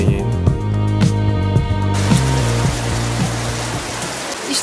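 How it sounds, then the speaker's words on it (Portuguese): Water falling from rocks at a lookout in the Picos de Europa mountains makes a steady, broadband splashing rush, like heavy rain, heard close and continuous. Music is playing under it for the first two seconds. "Isto aqui não é chuva, é só mesmo a água que cai das rochas."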